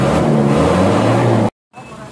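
An Isuzu Elf truck with a 4HG1 engine, which has a misfire and oil mixed into its coolant, drones loudly and steadily on a road test, then cuts off abruptly.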